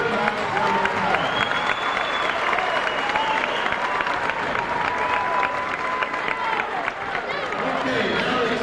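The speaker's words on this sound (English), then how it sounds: "So let's give them a real nice round of applause." A gym crowd at a 1993-94 Twin Springs vs Honaker high school region finals tournament applauds the staff, a continuous roar of clapping with scattered cheers and squeaks; a voice speaks over it briefly.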